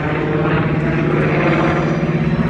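A B-25 propeller bomber flies over an airshow, its engines a loud, steady droning roar that holds throughout with no voices.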